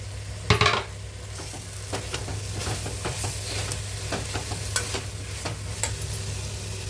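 Mint and coriander leaves frying in oil for a vegetarian biryani: a lively close sizzle broken by repeated sharp spoon-on-pan scrapes and clinks, over a low steady hum, with no one talking.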